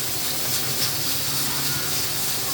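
Ground masala roasts in a pan for a spiced black chickpea dish, making a soft, steady hiss that holds evenly throughout with no speech.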